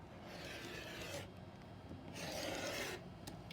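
Rotary cutter slicing a fabric strip against a ruler, two short rasping strokes separated by a pause, close and fairly quiet with no talking.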